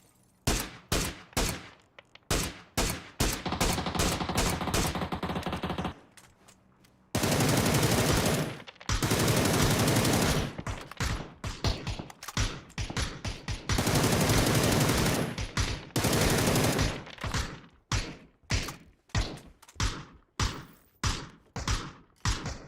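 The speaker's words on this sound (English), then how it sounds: "I heard gunshot." Loud gunfire in the video game PUBG, rapid automatic bursts and sustained fusillades broken by short pauses, then a string of separate sharp single shots, all close and without talk.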